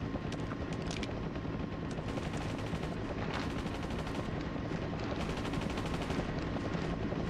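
Gunfire from Tom Clancy's Ghost Recon 2 on PS2 comes in rapid repeated bursts over a dense, droning, helicopter-like background roar, with no one speaking.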